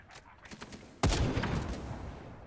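Sniper rifle fire in the video game The First Descendant, with a sharp, loud shot that rings out and decays, preceded by a few softer mechanical clicks from handling or reloading.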